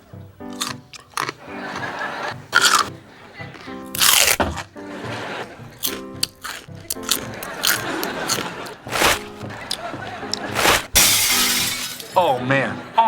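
Loud, crunchy chewing of food comes in sharp bursts of crackling bites spread across the clip, close to the microphone, interleaved with people talking.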